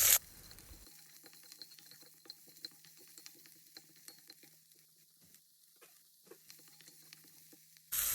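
Onions sautéing in a pan for tomato chutney give a soft, steady sizzle with scattered crackles and pops, dipping briefly quieter near the middle before resuming.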